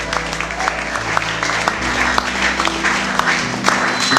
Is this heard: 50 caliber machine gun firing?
no